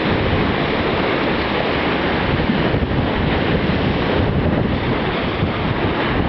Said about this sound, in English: I did try and capture that wave